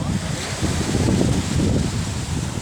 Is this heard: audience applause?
no